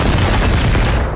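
A powerful shotgun fires in a video game amid a burning fight: one dense, loud, continuous blast of gunfire noise fills the whole short moment, with no pause or voice.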